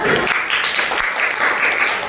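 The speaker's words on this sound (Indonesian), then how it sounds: "Terima kasih, tepuk tangan semuanya." Classmates clap after the first group's presentation in a junior high school classroom, a short burst of dense, fairly loud applause that stays even throughout.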